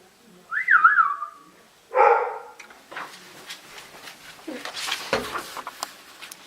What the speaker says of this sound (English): Whistle, boy